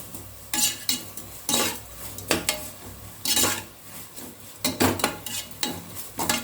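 A spoon stirring chicken biryani ingredients as they sauté in a pan, with repeated close metallic scrapes and clinks in uneven bursts over a soft sizzle.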